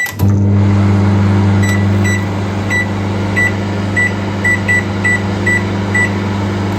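A microwave oven runs at close range as it heats frozen food for two minutes, giving a loud, steady low hum, with a string of short, evenly spaced electronic beeps over it.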